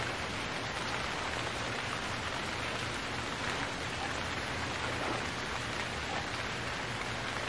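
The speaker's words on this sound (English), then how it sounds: "It's raining. I think I want to stay under. Holy crap, that is loud!" Heavy rain pours steadily in the survival video game Stranded Deep, a loud, dense, continuous hiss filling the whole clip with no talk over it.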